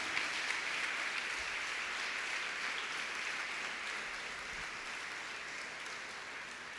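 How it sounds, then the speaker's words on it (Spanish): A church congregation at a Sunday service claps continuously, a fairly faint, diffuse mass of applause that holds steady and tapers slightly toward the end. "Dale un aplauso al Señor."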